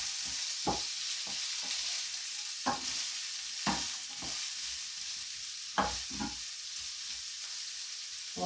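Minced protein fries in a little oil in a pan, with a constant close sizzle broken by the scrape and clatter of stirring every second or so.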